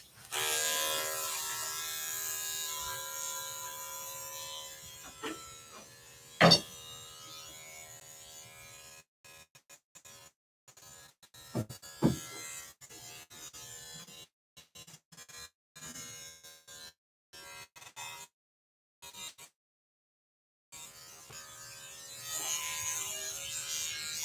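Electric dog clippers fitted with a 7 blade whir steadily while grooming a matted Shih Tzu, the motor hum cutting in and out in short bursts with occasional sharp knocks and pauses.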